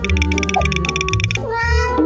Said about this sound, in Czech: Je to kočka.